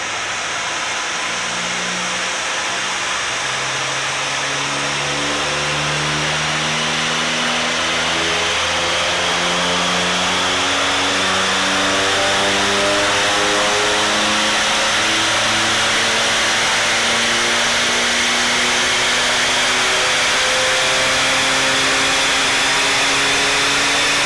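A VW Scirocco CR140 with a hybrid turbo runs on a dyno, its mid-pitched engine revving steadily upward through the gears in long rising sweeps, loud and close with a constant roar and no talking.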